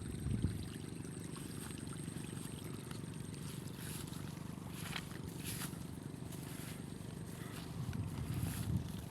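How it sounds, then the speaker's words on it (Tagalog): Strong irrigation water pours steadily into a rice field, a continuous close rushing wash with a few faint splashes and no speech. "at malakas naman yung tubig, may tubig pa yung irrigation"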